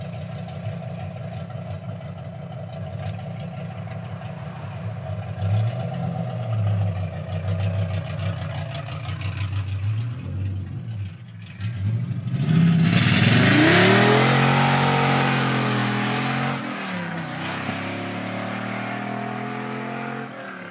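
A Chevy G20 van fitted with an 8-litre V10 and sidepipes idles with a deep burble, then revs hard and accelerates, the engine note rising loud and raw through the gears before easing off.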